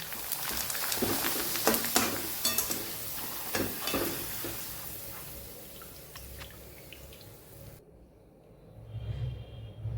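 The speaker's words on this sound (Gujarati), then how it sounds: "એવી જ રીતે આપણા બીજો પાપડ પણ તળી લેશું." Wheat and rice papad frying in hot oil, a close crackling sizzle with scattered pops and stirring that fades toward a quieter end.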